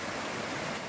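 A stream in a gully below a hillside flows with a constant, soft rushing wash, even and unbroken throughout the brief moment.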